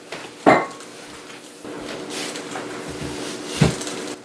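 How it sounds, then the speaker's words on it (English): A baking pan of cookies slides back into a home oven with a sharp metallic clank near the start, a low rumble through the middle, and a second clunk as the oven door shuts near the end. "time to put them back in the oven."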